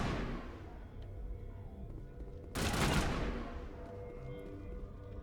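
A single sharp sniper shot in the Mass Effect video game cracks out loudly over a dense rumble of combat and background game noise, with the report ringing briefly before fading into the continuing din.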